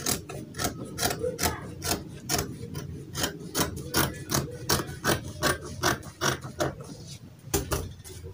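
Scissors cutting fabric for an off-shoulder ruffle cape, a steady run of close, crisp snips and clicks repeating every half second or so, with no talk.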